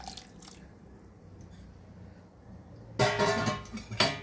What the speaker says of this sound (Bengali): ওই বাটিটা ধুয়ে একটু জল দিয়ে দিলাম।